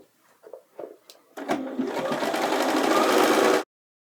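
A sewing machine stitches hem reference lines on a pair of pants, starting after a few small handling clicks and then running in a steady, close, rapid whirring burst for about two seconds before stopping abruptly.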